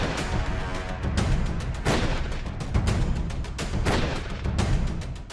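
Repeated gunshots ring out in an irregular series over continuous outdoor street noise in Dhoomanganj, Prayagraj, several sharp cracks spaced unevenly across a few seconds.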